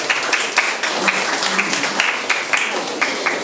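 Audience applause at the opening award ceremony of a Korean pastel painting association exhibition in a gallery, a steady wash of many hands clapping at moderate level with some individual claps standing out.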